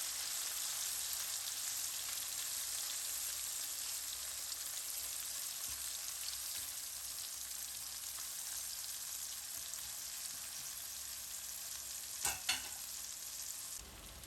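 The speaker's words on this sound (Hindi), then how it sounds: "चम्मच को जल्दी से चला देते हैं ताकि चिकन जुड़े नहीं आपस में।" Chicken pieces frying in hot oil give a dense, steady sizzle throughout, with a brief clatter of a spoon stirring them near the end.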